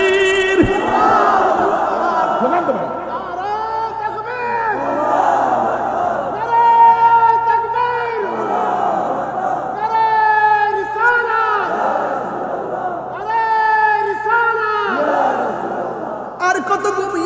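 A large crowd at an Islamic sermon gathering roars a chanted response in repeated loud, drawn-out waves, with a voice leading between the mass shouts.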